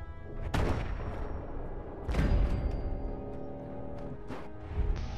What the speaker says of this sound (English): I love it was a one-shot explosion kill